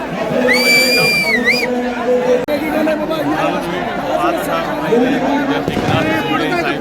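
Dense crowd chatter and shouting fill a packed outdoor Maratha reservation victory rally in Vashi, with a high whistle-like tone sweeping briefly near the start, steady and loud throughout under the general din.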